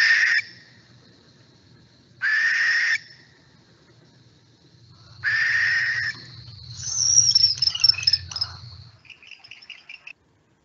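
A barn owl calls in the night: three long harsh hissing screeches spaced a few seconds apart, followed by a wavering, twittering screech, close and clear with no talk over it.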